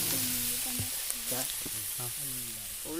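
Onions sautéing in a pan for a Kerala-style beef fry, giving a steady, close sizzle that runs under continuous talking.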